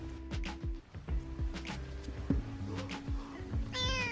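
A small cat meows repeatedly in short rising calls, close and fairly loud, with a soft chirping trill near the end and a person speaking quietly in French in the background.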